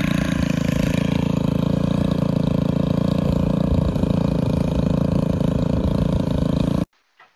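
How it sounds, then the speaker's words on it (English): A string trimmer engine runs at a steady, loud, buzzing drone while clearing brush, holding constant speed for several seconds before cutting off abruptly near the end. "Let's see if we can hit it with the trimmer first."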